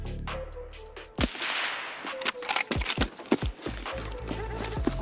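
Gunshots in the video game Escape From Tarkov, a string of sharp, irregularly spaced cracks, some close and loud, others lighter, over background movement noise.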